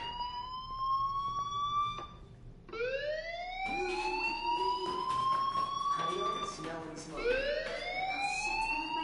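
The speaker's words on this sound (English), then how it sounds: "do you hear that fire alarm? That means you should be outside" A fire alarm in the video game Life Is Strange wails in rising, repeating sweeps, loud and continuous throughout, with several overlapping siren-like tones.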